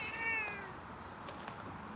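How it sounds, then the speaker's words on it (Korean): A cat meows once at night at a campsite in Ulsan, South Korea, a clear drawn-out call near the start that fades into steady outdoor background noise. "고양이가 있나 봐."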